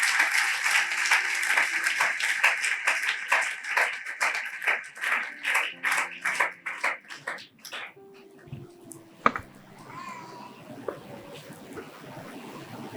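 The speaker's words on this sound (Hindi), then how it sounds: "आइए उस आसमानी बाप के लिए जोरदार तालियां बजाएंगे" A church congregation claps loudly during a live sermon, a burst of rapid overlapping claps that gradually slows into scattered, rhythmic single claps and then fades into quieter room sound.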